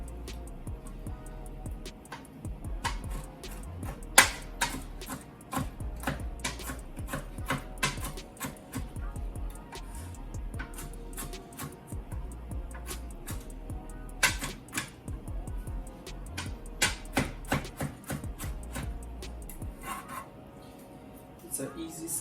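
A knife rough-chops raw shrimp for ceviche on a cutting board, giving a long run of quick, irregular taps and thuds up close, fairly quiet, sometimes in bursts.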